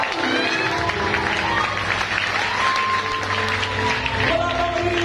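A church congregation breaks into loud, sustained applause, a dense wash of clapping with a few cheers, close and steady throughout.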